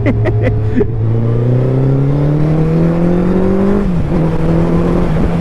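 Motorcycles including a Suzuki Hayabusa and Kawasaki Z900 revving loudly close by, a continuous rising engine drone held for several seconds before the pitch drops, with a few faint sharp ticks at the start.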